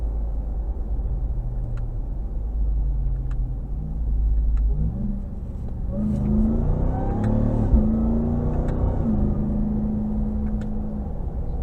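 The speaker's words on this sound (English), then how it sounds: "It'll redline like it's nothing." A 2022 Dodge Ram 1500 TRX engine idles with a low rumble, then revs hard toward redline with rising engine tones, loud and close from inside the cab.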